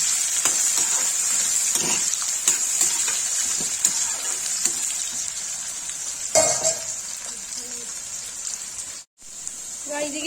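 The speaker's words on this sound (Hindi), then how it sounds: "अब इसे भिंडी डाल देंगे।" Sliced onions fry in hot oil with cumin before okra goes in, a steady close sizzle with occasional stirring clatter; no speech is heard.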